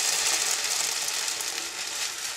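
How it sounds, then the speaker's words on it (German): Eierkuchen batter fries in oil in a pan, a steady close sizzle and crackle without pause. "Und dann lasst ihr den Eierkuchen von beiden Seiten hier goldbraun anbraten."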